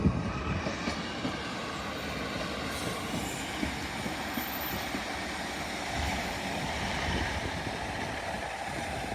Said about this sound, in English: Arriving in now is a terminated Northern train service from Sheffield.